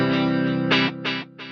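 An electric guitar runs through a delay effects pedal set up in parallel with reverb: a sustained distorted chord, then bright repeating echoes that pulse at a steady rhythm and fade between repeats.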